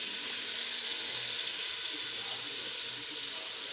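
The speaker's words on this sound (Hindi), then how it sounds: "ये देखें यखनी समेत बीफ सारा डाल देंगे।" Beef yakhni stock and beef being poured into a cooking pot for pulao, a steady, even liquid rush with faint hiss and sizzle, continuous and fairly quiet throughout.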